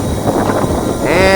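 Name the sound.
wind on the Upair One 2K drone's microphone at takeoff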